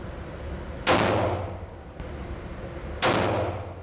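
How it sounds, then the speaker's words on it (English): Two sharp gunshots ring out at an indoor gun range, the first near one second and the second about two seconds later, each a loud broadband crack followed by a decaying echo. "take a shot or two at the gun"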